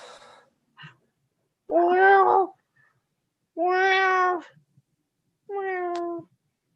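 A cat meows three times in distinct, drawn-out calls spaced about two seconds apart, close and clear in an otherwise quiet room, with a few faint soft sounds between them.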